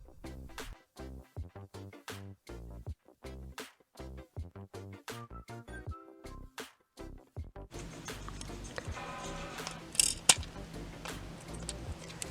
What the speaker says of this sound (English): then cut it into a vague tail shape